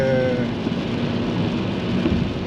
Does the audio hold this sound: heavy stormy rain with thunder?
yes